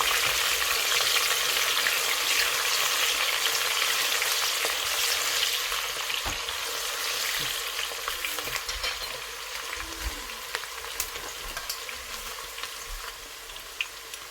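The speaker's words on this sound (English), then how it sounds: "You add your onions and turn it around." Onions sizzle steadily in hot oil in a pot for a Nigerian chicken stew, with a broad continuous crackle and occasional scrapes and knocks as they are turned over, loud and close throughout.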